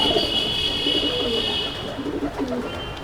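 Pigeons in a loft give low, close cooing phrases over a steady background hum with a faint high tone running throughout.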